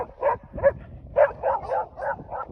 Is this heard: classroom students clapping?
no